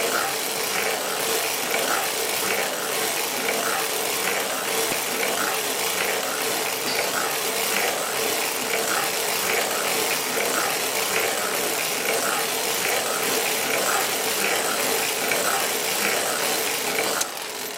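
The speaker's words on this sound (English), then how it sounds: "I'm just going to crank all of the yarn in the comb." A circular sock knitting machine cranked steadily, producing a dense, continuous mechanical clicking and whirring of needles and gears, loud and close, running without pause for the whole stretch.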